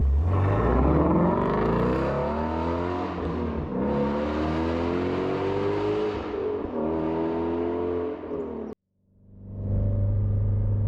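A Ford Shelby GT350R engine revs loudly and continuously, pitch climbing and falling for several seconds, then cuts out abruptly before a steady idle rumble returns.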